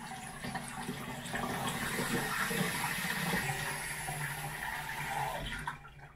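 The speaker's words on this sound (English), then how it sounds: "So now I just add water." Water pours steadily into a container to dilute a cleaning mix for a driveway sprayer, a continuous close splashing rush that cuts off near the end.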